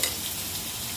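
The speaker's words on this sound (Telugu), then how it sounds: "తర్వాత కరివేపాకు వేసేసి తర్వాత ఉల్లిపాయలు కూడా వేసేసాను" Onions and curry leaves fry in a pan, giving a steady close sizzle with light stirring throughout, and no voices.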